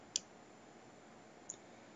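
A single sharp mouse click in Adobe Connect, followed by a second, fainter click about a second later, both quiet against a low background hiss.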